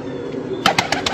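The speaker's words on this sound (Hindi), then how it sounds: "सिल्वर गोल्डन कबूतर है" A silver golden pigeon gives a quiet stretch, then a quick series of four sharp bursts, like wing flaps, close by and fairly soft.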